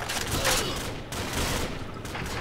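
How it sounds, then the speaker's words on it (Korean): Gunfire in Call of Duty 4: Modern Warfare, a dense fusillade of rapid shots in bursts, loud and close, with no speech over it. "총 좀 그만 쏴라"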